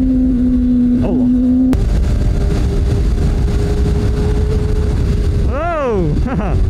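Loud, close engine drone of a Kawasaki ZX-25R sport motorcycle with a Yoshimura R-11 exhaust being ridden, steady with wind roar, then rising and falling revs near the end; speech occasionally underneath.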